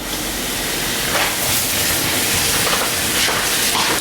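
Saganaki cheese hits a slab of hot oil in a pan on medium-high heat, giving a steady, loud broadband hiss and sizzle that holds for about four seconds with no talking.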